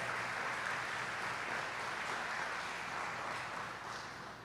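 A church congregation at a family service claps together in a sustained, even round of applause, moderately loud and continuous, fading slightly at the end.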